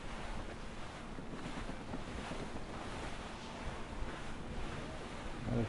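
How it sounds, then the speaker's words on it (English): Wind blows at sea in the video game Assassin's Creed Rogue, a steady, fairly faint rush of gusts and surf-like noise that continues unbroken throughout. "Wind getting vicious."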